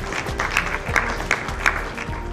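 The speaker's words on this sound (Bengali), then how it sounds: "ডক্টর বাবুলাল জৈনের নামে একটা হাততালি চেয়ে নিচ্ছি আমাদের চেয়ারম্যান।" Audience applause at a company program honoring the chairman, with steady clapping from a gathered crowd and a few sharper claps standing out above the rest.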